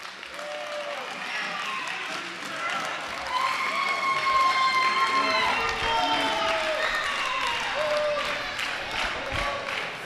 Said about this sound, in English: The crowd is happy because TK0 got the pin.